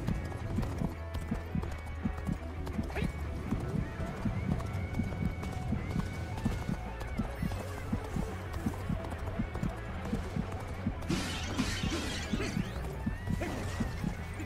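Hooves clip-clop in a fast steady rhythm as a horse gallops in the video game Dynasty Warriors: Origins, with a whinny, crashing game effects and a voice talking over it.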